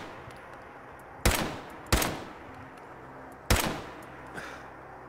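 A modified, scoped pipe rifle fires in the video game Fallout 4: three sharp, close shots, two in quick succession and one after a pause, each with a short decaying tail.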